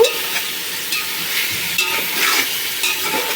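Homemade paneer, already fried in ghee, is stirred in a pan for a vegetable paneer biryani, giving a steady close sizzle with scraping strokes throughout.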